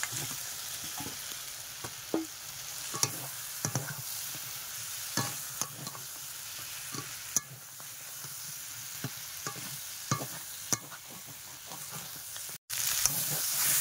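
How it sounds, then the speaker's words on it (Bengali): Fried prawns stirred into a thick onion gravy in a village kitchen, a steady sizzle with scattered scrapes and clinks of the spoon throughout, a brief dropout near the end. "এবারে দিয়ে দেব ভেজে রাখা চিংড়ি মাছ"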